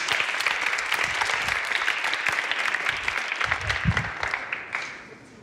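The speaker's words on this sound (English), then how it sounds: "An applause to Luis" An audience at a stand-up comedy show claps for a volunteer named Luis, a dense, steady burst of close applause that fades out near the end.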